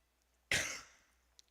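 A single sharp cough close to the mic, trailing off quickly in a quiet room, followed by a tiny click.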